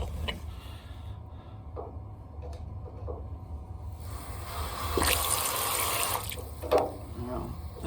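Water drains out of an AO Smith Cyclone water heater onto a floor drain, a steady splashing, trickling wash that grows louder midway and continues unbroken, close by, with a brief clank near the end.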